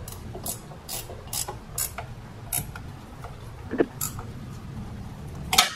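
A hand ratchet clicks in quick, uneven bursts while tightening bolts on the 1.4L Ecotec engine of a 2015 Chevrolet Trax during water pump replacement, close and crisp with occasional sharper metallic ticks.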